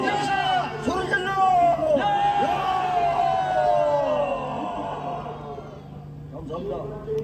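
Crowd at a political rally in a Seoul station square roaring, shouting and cheering loudly for several seconds, with voices rising over one another before the noise gradually subsides.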